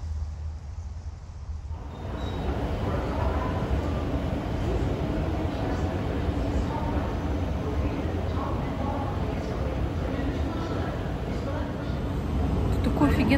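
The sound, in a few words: metro train running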